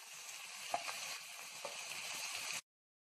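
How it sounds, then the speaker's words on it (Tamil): Steady sizzling of masala frying in hot oil for a South Indian vada curry, a dense crackling hiss with a few louder pops, close and continuous before cutting off abruptly. "மசாலா நல்லா எண்ணெயில் வதங்கிருச்சு"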